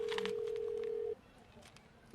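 A phone's keypad gives a quick run of dialing tones, followed by a long steady tone that cuts off, then quiet room noise.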